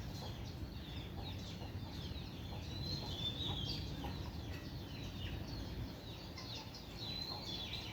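Chicks and grown chickens on a Thai farm cluck and peep continuously in a busy, moderately distant chorus, with thin high chirps scattered over a dense, low rustling background.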